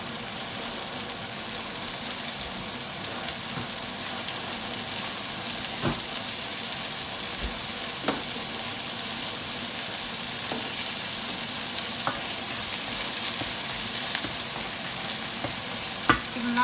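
Frozen peas and corn sizzle and fry in a pan with a steady hiss, broken by a few soft clicks and stirring knocks.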